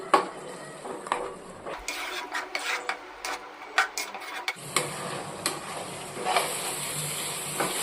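Tomato paste being sautéed in oil in a pan, with repeated scraping and stirring strokes of a spoon against the pan over a soft sizzle, close and fairly quiet, without talk.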